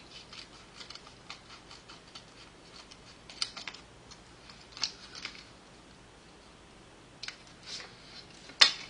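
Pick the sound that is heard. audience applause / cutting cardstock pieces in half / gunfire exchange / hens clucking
cutting cardstock pieces in half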